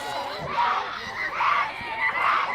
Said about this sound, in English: as you can probably hear, the Doniphan Donettes dugout comes to life, cheering Harder on